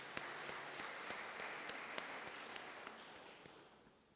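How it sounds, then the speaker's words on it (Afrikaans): Congregation members clap during a Sunday church service, a soft, distant round of applause with a few sharper individual claps standing out, gradually fading. "Ek dink ons kan vir hulle 'n bietjie hande klap gee vanoggend."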